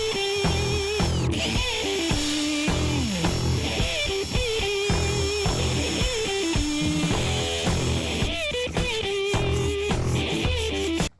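A power sander works over the rusty roof panel of a VG Commodore ute, whirring in repeated bursts with brief pauses and shifting pitch, close and steady throughout with no talking.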